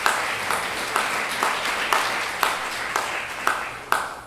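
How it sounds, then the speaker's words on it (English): An audience claps for River City Hospice at an event, a dense round of applause with regular sharper beats running the whole time, loud and fairly close. "give them a round of applause"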